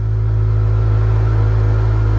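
A 2023 Kawasaki Z1000R motorcycle on its original exhaust, revving close up with a deep, loud, sustained engine rumble and no pause.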